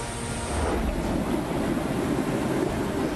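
The Anjani river in Maharashtra is in flood after two days of continuous heavy rain. Its water gives a steady, loud, broadband rush with a low rumble, constant throughout and with no voices.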